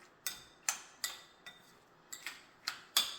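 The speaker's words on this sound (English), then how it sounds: "mix this up a little bit right now" A utensil clinks against a bowl while stirring a vegan no-tuna salad mixture with pickle and low-sodium soy sauce: about eight sharp, close taps in an uneven rhythm, with no talking.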